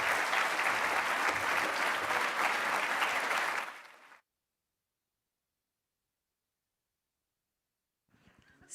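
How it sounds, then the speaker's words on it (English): Loud, dense crowd applause fills a gala hall for a few seconds as a guest comes on stage, then cuts off abruptly into silence before faint sound returns near the end. "we can give him a proper applause"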